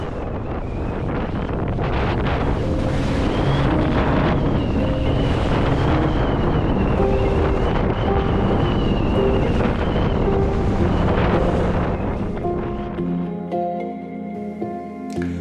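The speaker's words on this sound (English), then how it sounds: "You will see how we experienced sudden change of wind and large waves tested our seaworthiness." Strong wind buffets a sailboat at sea among large waves, a loud continuous roar with rushing water and gusting that thins out near the end, with no talk.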